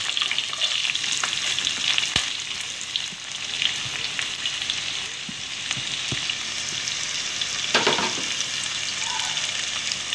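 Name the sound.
onions frying in a pan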